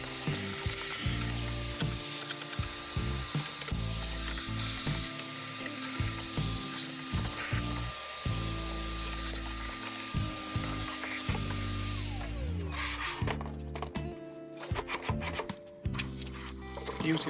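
Wire wool rubs tarnish off metal sliding rails in a small workshop, a continuous close rasping and scraping with a sizzling texture that turns into choppier strokes near the end.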